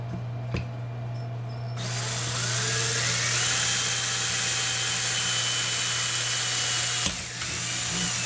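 A power drill unscrews the screws of an underwater camera housing, giving a close, loud, steady whine that holds for about five seconds and rises slightly in pitch, with brief knocks before and after.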